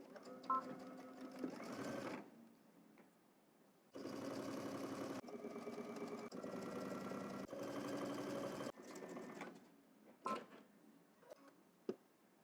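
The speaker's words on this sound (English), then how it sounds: "now we're going to head to the machine. We're going to stitch around here using 3/8 of an inch seam allowance." A sewing machine stitches a 3/8 inch seam on workout shorts, with several steady, close whirring runs of a few seconds each, separated by brief pauses and small clicks.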